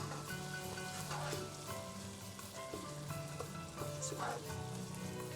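Sofrito bubbling and sizzling in a pot for arroz con gandules, a faint, even crackle with small stirring sounds and soft pops throughout, no clear speech.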